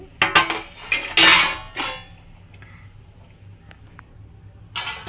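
Metal utensils clink and clatter against a cooking pan as curry leaves are added, several quick bright strikes early on, then a quiet stretch and one more clink near the end.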